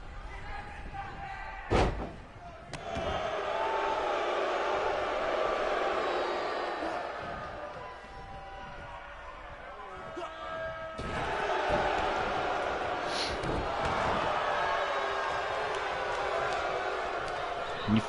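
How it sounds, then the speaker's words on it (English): A wrestling crowd at an HWA East five-man main event roars and boos throughout, a broad sustained wash of voices rising and falling, punctuated by a couple of sharp ring slams and a commentator speaking over it. "I'm not sure who the fans are booing louder for."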